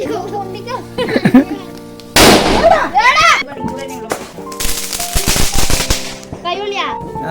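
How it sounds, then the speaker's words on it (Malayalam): Small-wick firecrackers burst loudly at a festival, sharp cracks and crackling volleys mixed with whistling and excited voices of children and adults talking and shouting close by. "ചെറിയ തിരിയുള്ള വെടി"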